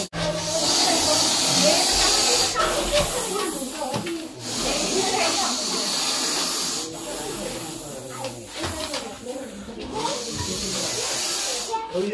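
An angry venomous snake gives a loud, sustained breathy hiss that surges and fades in long waves, close by, while people talk over it.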